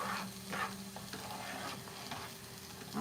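Scrambled eggs sizzling in a hot pan while being broken up and stirred, with rhythmic scraping strokes over a steady close sizzle.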